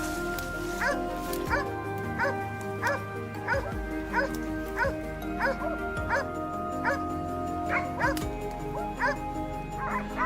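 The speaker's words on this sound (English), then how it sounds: "they erupted in frantic barking, a hopeful signal that a boar had been spotted" Hunting dogs bark frantically at a wild boar during a hunt, a dense run of repeated yips and barks with whimpering whines, heard fairly near over a constant low rumble.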